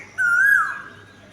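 Single clear whistled call of a bird perched high in a tall papaya tree, a brief rising then falling note, fairly loud against quiet surroundings.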